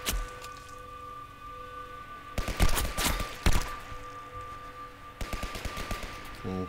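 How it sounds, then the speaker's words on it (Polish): Bursts of gunfire in a video game about explosive worms, with two dense volleys of rapid shots and a later run of sharper single cracks over a steady game background hum. "Skąd oni jeszcze strzelają?"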